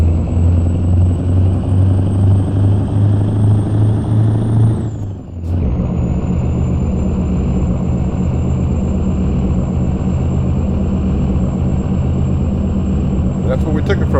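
A heavy truck engine in American Truck Simulator drones low and steady while hauling a heavy load on flat ground, with a brief gear-change dip partway through, then the loud continuous rumble resumes.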